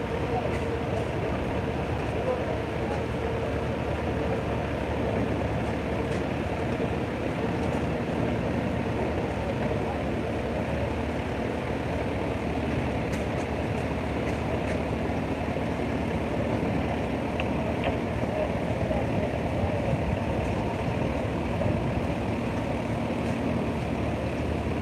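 A 1936 Case Model L tractor rolls past in the Canandaigua Pageant of Steam tractor parade. Its steady low engine rumble runs throughout, under an announcer talking over a loudspeaker.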